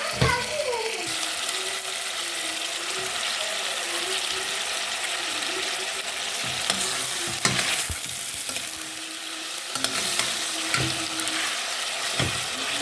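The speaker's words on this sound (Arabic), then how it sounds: "هننزل بقى عليها اللحمه واحده واحده" Pieces of meat are laid one by one into a pan over seasoned onions and sear with a loud, continuous sizzle, punctuated by metallic scrapes and clatter from a utensil against the pan.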